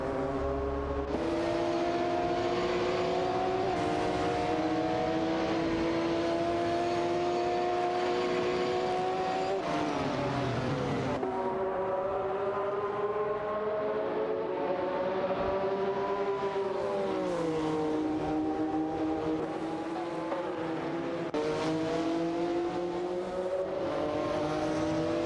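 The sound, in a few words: race cars in a video game, Porsche 911 GT1 and McLaren F1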